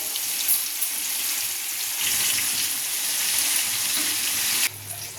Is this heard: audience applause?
no